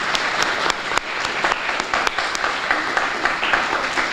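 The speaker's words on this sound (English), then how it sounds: "I want to give him a round of applause for supporting us today." Applause from the audience at a Rhode Island press conference on youth funding: a dense, steady burst of many hands clapping, fairly close and loud, filling the whole stretch with sharp individual claps standing out.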